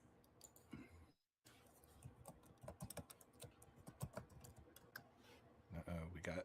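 Computer keyboard typing clatters in quick irregular bursts in the background of a live-streamed 1980s-themed podcast, faint and mixed under people talking.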